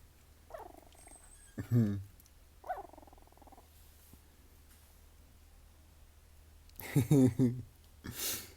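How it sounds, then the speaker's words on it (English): Small whimpers and squeaky yelps from young puppies, a few short bursts spaced apart, close and fairly quiet against a calm background. "That's Muffin puppies."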